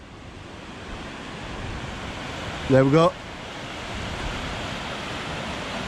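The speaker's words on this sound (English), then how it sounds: "This is Washburn River after the overflow from Lindley Wood Reservoir." Washburn River rushing below Lindley Wood Reservoir after overflow, a steady loud broadband roar of fast water with wind, continuous throughout while someone speaks briefly midway.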